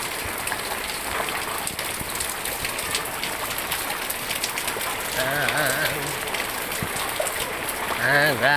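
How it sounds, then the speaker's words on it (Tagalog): Floodwater rushes through a street in a steady, loud broadband wash, with a voice speaking over it partway through and again near the end. "Grabing baha, guys."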